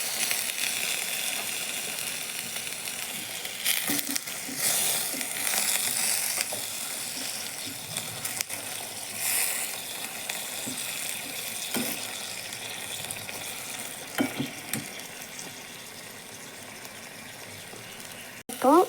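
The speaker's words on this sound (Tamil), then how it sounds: "எல்லாம் சேர்ந்து நல்லா வதங்கி வரட்டும்." Ingredients with curry leaves sauté in a pan, making a soft continuous sizzle broken by brief scraping and clinking strokes of a spoon, close but fairly quiet, with no talk.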